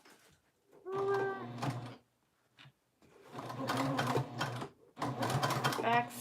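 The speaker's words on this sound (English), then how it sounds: "Back stitching." A sewing machine back stitches on a basic tote bag in three short bursts separated by brief gaps, with faint handling sounds between them.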